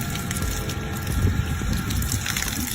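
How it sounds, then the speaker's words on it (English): Hot water is poured over a frozen car gas cap outdoors in winter, producing a steady, continuous splashing gush at moderate level. "So she had to pour hot water on the gas cap because it froze."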